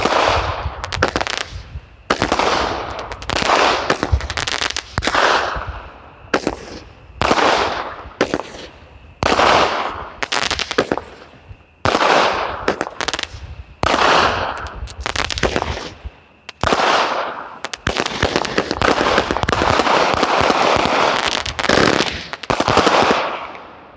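Small 200-gram firework cakes firing a long run of rapid, loud crackling shots and bursts, in quick volleys with short gaps between them, with no talking over them.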